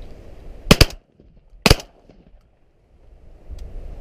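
Shotgun blasts during pigeon shooting: two loud, close reports about a second apart, the first a quick double, followed by quiet outdoor background.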